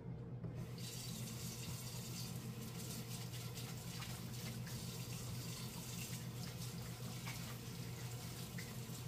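Water runs steadily from a kitchen tap for a quick wash, a continuous splashing rush heard alone and close for the whole stretch.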